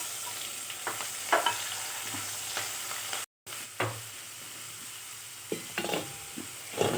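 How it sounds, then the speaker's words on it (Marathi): Green chilies and garlic sizzle gently in a hot pan, a soft continuous frying hiss broken by occasional stirring clicks and scrapes, with no voices. "तर आपण त्याच्यात मिरच्या टाकू"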